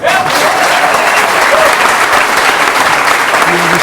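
A packed crowd at a leaders' debate at Féile an Phobail applauds to welcome the panel, loud, continuous massed clapping that stays strong throughout.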